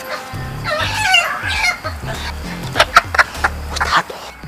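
A hen clucks nearby in a farmyard where eggs are being checked, with a run of short repeated clucks rising toward the end and other low fowl sounds mixed in.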